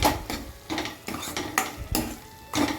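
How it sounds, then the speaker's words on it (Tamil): Palkova made from packet milk is stirred with ghee in a pan, giving rhythmic scraping and clattering strokes of a spoon against metal, roughly one every half second, close and fairly loud. "நெய் சேர்த்து நல்லா கலந்து விட்ருவோம்"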